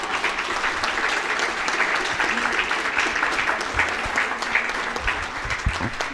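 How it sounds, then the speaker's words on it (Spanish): A crowd applauds a speaker's tribute to civil society during a public forum on violence in Mexico, the clapping dense, steady and sustained, with scattered louder claps near the end. "aquí sí un aplauso para esta sociedad que se lo merece"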